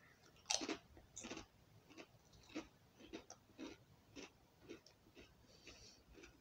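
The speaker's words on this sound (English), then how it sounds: "let's try a first taste then of a Lay's spring onion crisp" Crunchy bites and chewing of Lay's Wavy spring onion flavour crisps, close and fairly quiet, with irregular crackling bursts spread over several seconds.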